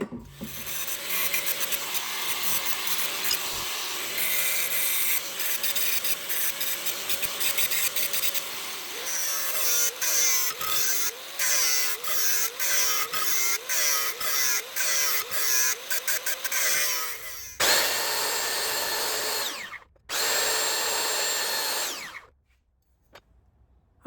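Loud power tools grind and buzz against wood while shaping dash trim for a 1956 Studebaker Hawk, with rasping bursts and brief pauses, then two final sustained whines before stopping.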